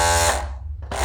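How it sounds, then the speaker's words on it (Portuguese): An overlock sewing machine stitches fabric with a loud, continuous electric whir that dips briefly in the middle and picks back up, close and alone. "Então eu vou costurar o tecido."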